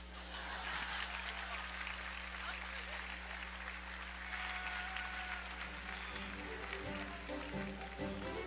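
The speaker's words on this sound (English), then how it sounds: "Can we get another round of applause for that dunk?" Applause from an awards show crowd, continuous and fairly distant, with a loud steady hum underneath and some voices near the end.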